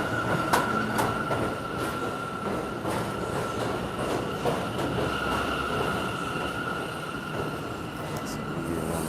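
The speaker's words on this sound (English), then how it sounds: "The J train." A New York City J subway train passing through a station, a steady loud rumble with rhythmic clicking wheel beats and a few sharp metallic squeals, continuous and close throughout.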